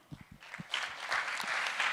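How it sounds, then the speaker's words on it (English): An audience at the close of a scientific school on quantum fluids breaks into applause for the organizers, a few scattered claps quickly swelling into steady, dense clapping that carries on to the end. "Let's give a last big applause for our organizers."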